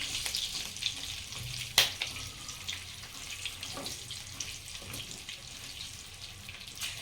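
Stuffed chillies fry in a pan with a soft, continuous sizzle while a spoon stirs them, one sharp scrape of metal standing out early among lighter clinks.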